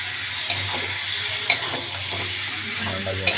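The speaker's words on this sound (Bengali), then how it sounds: "নাড়াচাড়া হচ্ছে।" Whole potatoes fry in oil in a pan and are stirred around. A steady close sizzle runs under intermittent clacks and scrapes of the spatula against the pan.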